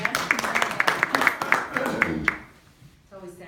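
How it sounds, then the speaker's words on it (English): An audience at a solo and ensemble music competition applauds with a sparse, steady run of claps that fades away, followed by a voice speaking. "It's always sad when the applause stops."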